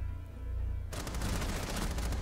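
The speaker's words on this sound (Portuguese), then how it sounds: "É, Valkyrie aí tancando tiro pra cara, pra chuchu, de AK-12." An AK-12 assault rifle fires in Rainbow Six Siege: after a steady low game hum, a loud continuous burst of rapid automatic gunfire erupts and keeps rattling to the end.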